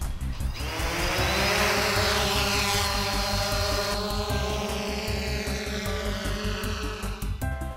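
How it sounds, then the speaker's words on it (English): An Ehang Ghost Drone 2.0 flies in Avatar mode, its propellers giving a loud, close, buzzing whir that rises and shifts in pitch as it climbs and manoeuvres, steady throughout with no speech. "I'm flying in Avatar mode, and I'm not gonna lie, this is a very peculiar way to fly a drone"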